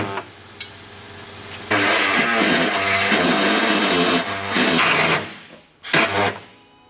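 An air-powered reciprocating saw fitted with brand new blades cuts small pieces out of a Toyota Land Cruiser 200 Series body for an ARMAX Safari snorkel install, a loud steady rasping buzz running about three seconds, then shorter bursts after a pause.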